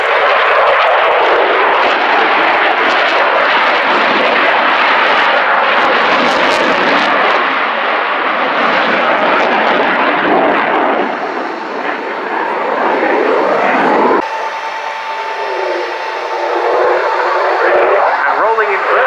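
A jet aircraft roars loudly and continuously through a flying display at the RIAT Fairford airshow, its engine tone shifting as it passes, with a commentator speaking over the noise.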